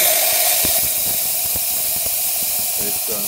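Steam wand on a La Spazielle Vivaldi espresso machine steaming, a steady loud hiss running throughout with faint knocks and gurgles underneath.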